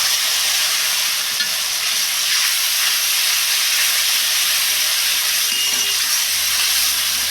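Masala frying in oil for a potato and soybean curry, with a steady loud sizzle and hiss and occasional stirring scrapes underneath, no talking.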